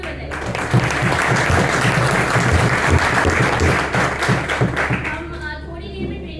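An audience at a food safety training session claps steadily for the trainer, dense sustained applause that fades out toward the end, with a voice briefly audible through it.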